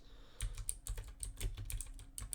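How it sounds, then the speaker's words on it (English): Brisk typing on a computer keyboard during a web search, close and clear, with rapid clustered keystrokes in uneven bursts and no voices. "I'm just gonna type in"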